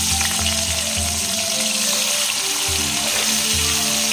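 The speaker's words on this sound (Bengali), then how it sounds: "তেল দিয়ে মাছটাকে প্রথমে ভেজে নেব হালকা করে" Katla fish frying lightly in hot salted oil gives a steady, close, dense sizzle with a low rhythmic hum pulsing beneath it throughout.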